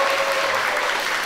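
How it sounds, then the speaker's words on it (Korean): Crowd applause breaks out as LG Sakers basketball player Lee Jae-do is introduced at a one-on-one challenge show, a brief, dense and steady wash of clapping that fills the whole moment. "박수 부탁드립니다."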